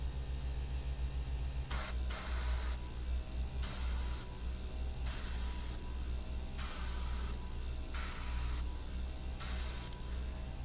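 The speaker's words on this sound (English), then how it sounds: "Push down to clean the end of the tip out and give it a spray." A Gocheer mini airbrush sprays paint in repeated short hissing bursts, about seven of them in a steady rhythm, close and alone over a constant low motor hum.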